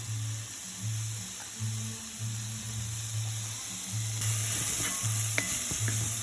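Garlic tipped into translucent onions sautéing in a pan, a steady sizzle that swells louder partway through, with clicks of a utensil stirring, close up and without talk over a low intermittent hum.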